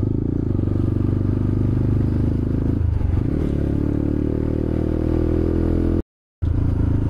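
A noisy motorcycle engine drones loud and close while riding, its steady low rumble roughened by clatter, with a shift in pitch midway and a brief dropout near the end.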